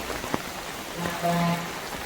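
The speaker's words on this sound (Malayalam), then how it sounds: "നല്ല മഴ" Rain falling, a soft continuous patter with a few sharper drops and a brief faint tonal sound partway through.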